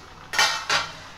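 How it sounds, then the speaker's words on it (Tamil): A spoon scrapes twice through boiling chicken dalcha in a cooking pot, two short close scraping strokes with a brief pause between them and no voices. "நல்லா கிண்டி விடுவோம்."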